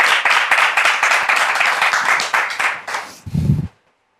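An audience at a church gathering claps for a couple in a brisk burst of applause that thins out and ends, with a short low thump just before it stops.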